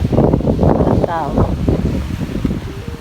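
Strong wind in Sibenik, Croatia, buffets the microphone in loud, rumbling gusts while a person speaks over it.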